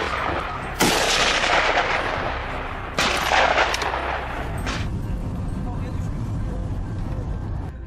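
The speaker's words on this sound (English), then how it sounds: "a decisive gunshot rang out" Rifle shots during a wild boar hunt, two sharp loud cracks a couple of seconds apart over steady outdoor noise and background talk, with a fainter third report trailing after.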